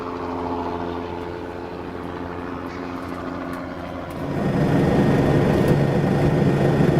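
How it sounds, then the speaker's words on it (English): A helicopter sweeps in over Niihau in Hawaii, a steady low engine and rotor drone that grows louder partway through as it approaches, with no talk. "a helicopter sweeps in over Niihau"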